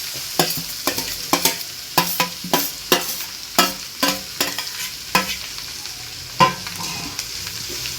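Onions fry in a pan for cabbage palya while a spatula stirs them, producing a series of sharp, close scraping clacks roughly every half second over a continuous sizzling bed, without talk.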